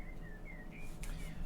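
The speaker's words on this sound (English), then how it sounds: "Don't know if you can hear the bird song outside" Birds singing outdoors beyond an open window, heard from inside a room: a few thin whistled chirps repeat faintly over a steady low room hum, with no talking.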